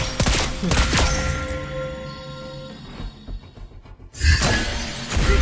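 Lesley's rapid gunfire in the mobile game Mobile Legends: Bang Bang comes as loud sharp bursts with shattering crackles, then trails into a ringing tail that fades before another harsh burst.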